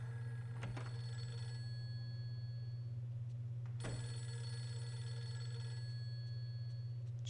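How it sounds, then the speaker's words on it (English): A telephone rings in the Fatal Frame 3 video game, two distinct bursts of ringing about three seconds apart over a steady low electronic hum, with no talk. "Let the phone ring as we take a spin."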